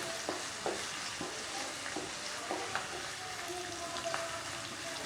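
Finely chopped onion cooking in a pan, a soft continuous sizzle with occasional light scrapes and taps as it is stirred, fairly quiet and close.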